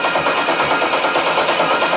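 A DJ loop running through a delay effect, dense and continuous with smeared, repeating echoes filling the whole two seconds at a steady loud level.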